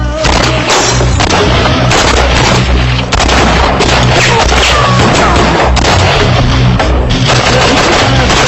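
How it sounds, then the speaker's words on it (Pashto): Gunfire and booming blasts in a Pashto-dubbed drama battle scene, a dense, continuous barrage of loud shots and explosions filling the whole stretch without a break. "ډزې وکړئ"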